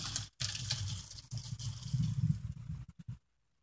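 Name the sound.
pouring pasta water out of a heavy pot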